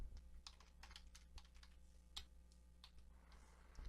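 Quiet, close typing on a computer keyboard, irregular clusters of soft key clicks with short pauses, no voices.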